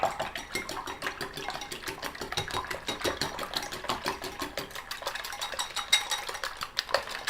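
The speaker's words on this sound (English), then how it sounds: "just got to break the eggs up with the whisk" A whisk beats eggs briskly in a bowl, a fast, even run of close clicking and rattling strokes that continues without pause throughout.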